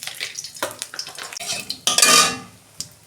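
Small clinks and scraping in a wok, then a brief rising crackle and sizzle as nigella seeds hit the hot oil, fading after about half a second.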